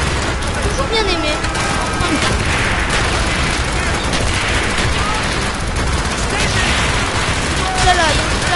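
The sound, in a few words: gunfire in video game Call of Duty Black Ops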